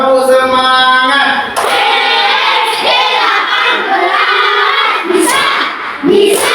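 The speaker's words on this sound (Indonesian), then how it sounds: "Coba kita ulang lagi, tepuk semangatnya." A classroom of children performs a spirited rhythmic clap routine, loud group clapping mixed with shouted chants and crowd noise close by, continuing energetically throughout.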